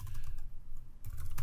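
Keystrokes on a computer keyboard while a command is entered into a Cisco IOS command-line interface, a quick run of close taps followed by a short pause and another burst.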